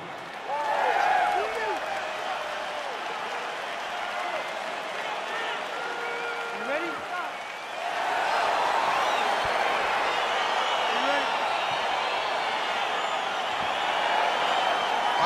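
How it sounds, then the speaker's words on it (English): A crowd in the EA Sports UFC 4 video game cheers and applauds as a fight gets underway, a steady roar with whistles that swells louder midway through. "Crowd getting excited as this fight gets underway"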